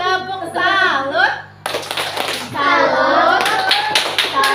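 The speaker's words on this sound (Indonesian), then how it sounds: "Kita beri tepuk salut untuk kelompok 2." Children in a classroom clap a rhythmic 'tepuk salut' cheer for group 2, with bursts of clapping between sung or chanted young voices, fairly close and loud.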